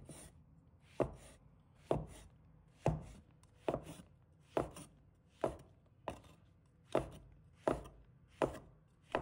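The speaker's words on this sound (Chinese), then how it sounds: "把它切成小块。" A knife chops shiitake mushrooms into small pieces on a cutting board, with about ten sharp, evenly spaced chops in a steady rhythm, close and clear, with no voices.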